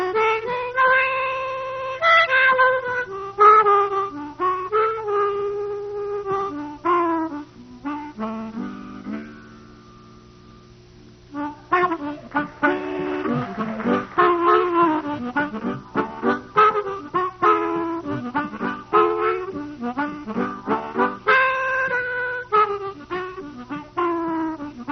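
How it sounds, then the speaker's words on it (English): Harmonica playing the blues, wailing bent notes and fast chordal bursts with a brief pause midway, close and alone over a low steady hum. "I'm going to play the harmonica now."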